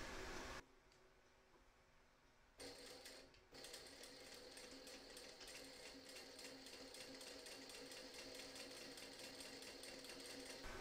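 A sewing machine stitches a quarter-inch seam, its steady mechanical whir running close and continuous after a short pause near the start.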